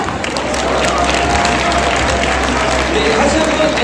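A ceremony audience at a corporate recognition event claps and cheers in a dense, sustained wash of applause that fills the room.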